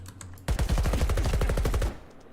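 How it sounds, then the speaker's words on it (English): A close burst of rapid automatic submachine gun fire in a video game rattles out loud for about a second and a half, a dense string of sharp shots with no talk over it. "SMG has so much recoil, it's crazy."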